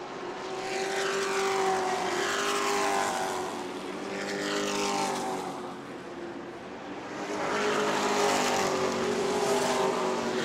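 Pro racing trucks circle the oval at New Smyrna Speedway, engines roaring loud and steady as they sweep past in waves, rising and fading with each pass, no voices.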